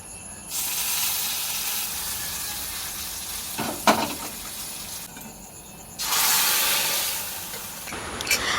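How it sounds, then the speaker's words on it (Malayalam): Mustard seeds and curry leaves tempering in hot coconut oil in a pan, a close, steady sizzling hiss that swells and dips, with a brief clatter midway and a louder burst of frying near the end. "ചട്ടിയൊക്കെ അടുപ്പത്ത് വെച്ചു വെളിച്ചെണ്ണ ഒഴിച്ച് കടുകിട്ട് കറിവേപ്പിൻ്റെ ഇല ഇട്ട് കൊടുത്തിട്ട് ആണ് പൊട്ടിച്ചിട്ട്"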